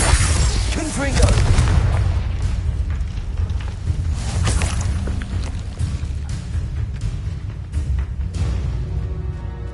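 Booming explosions from the Confringo spell in the video game Hogwarts Legacy burst repeatedly amid game combat noise, with a person talking over the action throughout.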